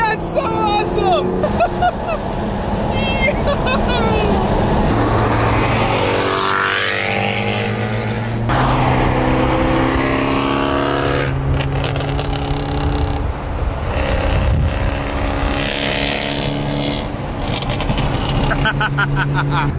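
Mercedes C63 AMG with a pops-and-bangs tune, engine revving and burbling loudly up close with sharp crackles and rising, falling revs, while people talk over it.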